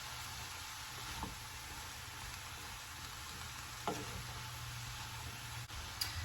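A keto cheesy taco mixture sizzling steadily in a skillet while being stirred, with a few soft spatula knocks against the pan over the constant fry, fairly quiet.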